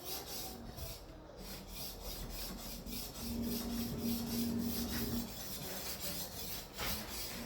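A large paper machine knife edge, held in a clamp, is sharpened by hand, giving a close, steady rasping scrape in repeated strokes that continue without pause.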